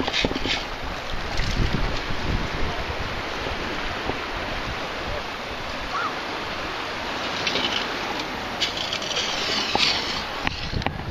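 Choppy bay water slaps and churns close by in a steady, noisy wash with intermittent splashes and wind rumble on the microphone, and no talking over it.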